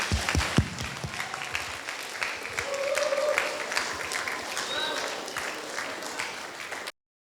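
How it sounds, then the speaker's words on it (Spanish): An audience at a chamber music festival talk gives a sustained round of applause, dense steady clapping that holds for about seven seconds before cutting off abruptly. "Le vamos a dar un aplauso por su"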